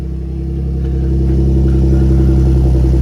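A Ford Raptor's V6 engine, started by remote, gives a close, loud, low rumbling drone that swells slightly over the first second and then holds a steady, even idle with no voices.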